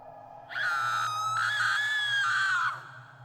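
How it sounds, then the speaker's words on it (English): A woman's long blood-curdling scream rises suddenly, holds at a loud piercing pitch for about two seconds and then breaks off, standing alone over a low steady hum. "a woman's blood-curdling scream echoed from down below."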